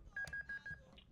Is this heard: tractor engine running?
no